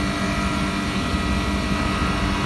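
An old Blue Star ductable air conditioner outdoor unit with a fixed-speed, non-inverter compressor runs with a loud, steady, broadband mechanical drone and hum, close up and unbroken throughout.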